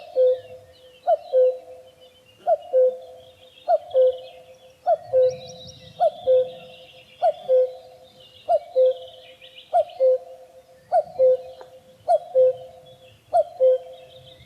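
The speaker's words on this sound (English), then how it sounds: "Here's the song of the cuckoo." Cuckoo song in Monkstown: a steady series of two-note calls, the classic falling pair repeated about a dozen times at even intervals, mid-distance, with faint twittering of other birds behind.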